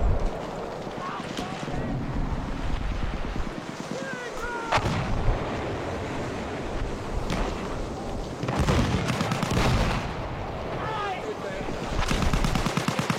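Grenade blasts and bursts of gunfire in a video game, with heavy booming explosions and rattling shots coming in waves under a constant roar of wind-like noise.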